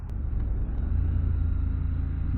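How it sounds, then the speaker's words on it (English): A 2024 Triumph Scrambler 1200X motorcycle engine braking while riding, a steady low rumble of the engine with wind noise, loud and continuous without pause. "A lot of engine brake."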